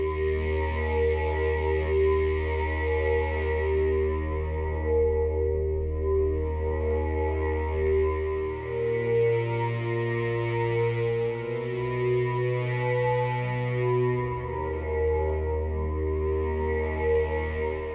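Gods of Time, a formant synth pad preset in Arturia Pigments 4, holds a dense, sustained sci-fi drone with a vocal-like shimmer and a low bass note that shifts pitch midway, played steadily and alone.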